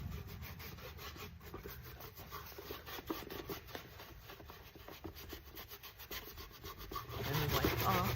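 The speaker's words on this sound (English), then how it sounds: "Now I'll go in with the aging wax." Aging wax being rubbed by hand onto a piece of upcycled thrift-store wooden furniture, quiet steady scraping and rubbing strokes repeated close up throughout, with no speech.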